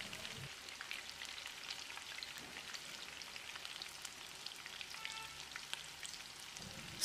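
Chicken pieces deep fry in oil until crispy, with a faint, steady hiss and fine crackle that continues unbroken and sounds rather like light rain. No one speaks.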